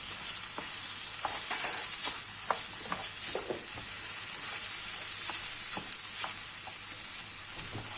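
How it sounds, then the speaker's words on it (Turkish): Rice pilaf mixture sautéing in butter for stuffed chicken, a steady close sizzle broken by irregular scrapes and taps of a spoon stirring through the pan, with no talking. "Kavuralım bir güzel. Tereyağımızla."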